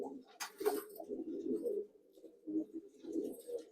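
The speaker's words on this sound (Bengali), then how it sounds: "এই হচ্ছে 11 নম্বর ঘরের একটা ম্যাড্রাস পেয়ার দেওয়া আছে, ঠিক আছে, খুব সুন্দর কোয়ালিটির পায়রা" A breeding pair of Madras pigeons in a loft coo softly in low, rolling bursts, one call after another with short pauses, close by and fairly quiet, with a brief rustle of wings near the start.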